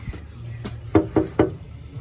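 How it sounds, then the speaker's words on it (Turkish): Knuckles rap on the door of a house in Kosovo, a faint tap followed by a quick run of three firm, evenly spaced knocks, close and clear against a quiet background. "Kapıyı çalıp bekliyorum"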